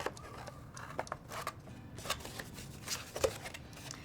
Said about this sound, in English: And just cut a pretty big circle.